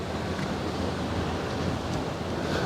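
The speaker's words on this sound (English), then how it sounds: "It's so windy." Strong wind blowing by the Westerschelde waterway, a dense steady rushing roar buffeting the microphone throughout, sounding like surf, with no talk.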